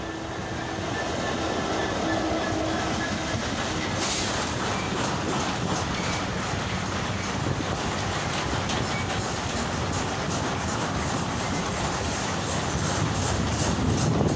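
A local train with many carriages rolls past close by, a loud continuous rumble with steady clickety-clack of wheels over rail joints throughout.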